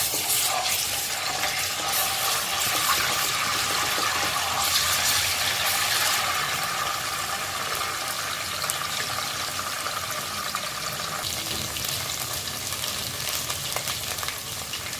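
Ginger garlic paste fries in about three tablespoons of hot oil for mutton nihari, giving a steady, dense sizzle and crackle that stays loud and close the whole time, with no voices.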